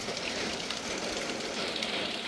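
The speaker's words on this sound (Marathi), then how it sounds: "असं सुंदर पाऊस पडतंय." First rain of May in a Konkan village, a dense, even hiss of rain falling steadily on surfaces all around, continuous and moderately loud, with no voices.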